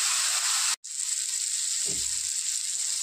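Small salted tomato pieces frying in a pan, giving a steady, soft sizzling hiss that cuts out briefly before resuming, with a low knock partway through.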